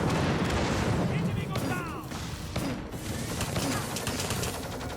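Airstrike explosions in the Firefall game boom in a dense, continuous barrage of blasts and gunfire, loud throughout with a voice talking over parts of it.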